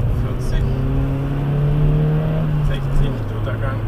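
A Hyundai Getz with a 1.1-litre, 62 hp engine accelerates up a motorway on-ramp, its engine drone rising steadily in pitch through the gears under road and wind noise, with a voice talking over it.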